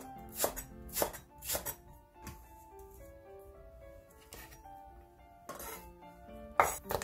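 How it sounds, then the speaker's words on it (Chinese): Small hot chili peppers are chopped into large pieces with a kitchen knife on a board, giving close, sharp thwacks in irregular bursts with light clinks between them. "切成大段儿。"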